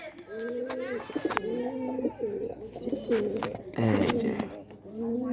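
Pigeons coo repeatedly in a home loft, their low warbling calls rising and falling in steady bursts, close and fairly loud, while someone talks over them at intervals.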